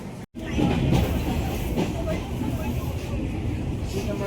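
A Tejas Express train running from Thane to Kudal gives a steady, loud low rumble with faint rhythmic rail clatter, heard from on board, while voices talk over it.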